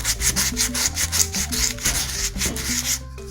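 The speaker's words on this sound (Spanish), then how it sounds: "voy a aprovechar para lijarle aquí y que quede más redondito" Rhythmic rasping strokes of sandpaper rubbing back and forth on a hard plaster piggy bank, close and steady, stopping just before the end.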